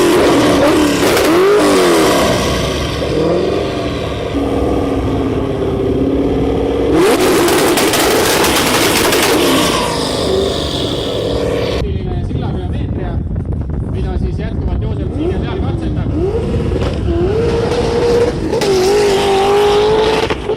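A radio-controlled Beetle dragster car runs with a loud, continuous engine drone that climbs and dips through revving surges, with a few sharp bursts of acceleration over about twenty seconds.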